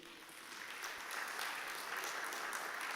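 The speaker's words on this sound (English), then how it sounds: "Let's give her a round of applause," A round of applause from an audience at the Jamaica Agri-Business Investment Forum, a steady, moderately distant wash of clapping holding throughout.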